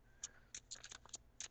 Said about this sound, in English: I'm going to shuffle for your outcome card